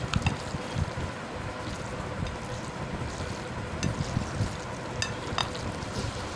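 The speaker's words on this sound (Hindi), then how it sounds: "अब इन सभी चीज़ों को अच्छी तरह मिक्स कर लेना है।" Noodle chana chaat ingredients are stirred and tossed together in a bowl, a soft, steady scraping and rustling with a few faint clicks, quiet and continuous with no talking.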